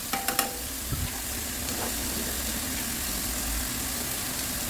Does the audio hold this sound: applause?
no